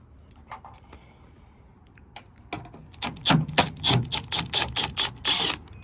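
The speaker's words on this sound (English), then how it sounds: "we'll pop these screws out" Quick, sharp clicks and rattles from backing T25 screws out of a RAM pickup tail light, sparse at first and then a dense run of close ticking bursts.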